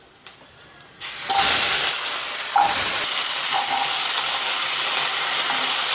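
Potatoes drop into hot mustard oil in a wok, spiced with whole cumin and dried red chillies. After a couple of soft knocks comes a loud, steady hiss and sizzle that holds close and strong to the end.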